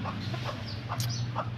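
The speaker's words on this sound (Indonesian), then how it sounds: "Tuh ayam cocin ya, lucu ya teman-teman." Cochin ornamental chickens in a backyard coop cluck softly, several short clucks spaced across the moment over steady low background hum.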